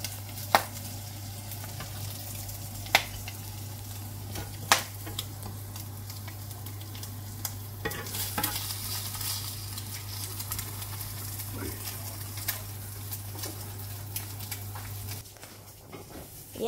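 Eggs fry in a pan with a steady low sizzle and light crackling, along with scattered sharp ticks and a constant low hum underneath.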